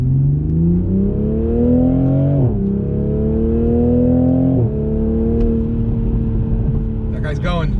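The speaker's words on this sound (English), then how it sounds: "We're gonna do a little 0 to 60 run here." A Toyota MK5 Supra pulls hard from a standstill, its engine note climbing steadily through two upshifts with brief dips, loud and close from inside the cabin.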